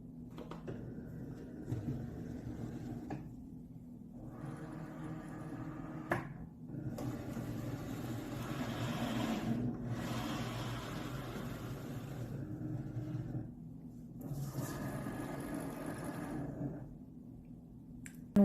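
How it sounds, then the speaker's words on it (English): A Cricut cutting machine loading and measuring a cutting mat for faux leather, with steady motor whirring in long passes broken by short pauses and clicks, moderately loud and alone. "We'll now go ahead and load this into our machine."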